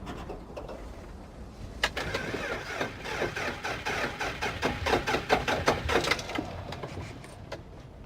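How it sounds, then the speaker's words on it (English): A car engine fails to start during a storm, cranking in a rapid run of sharp, sputtering bursts that rise and then fade over several seconds against steady wind noise. "The engine's had it."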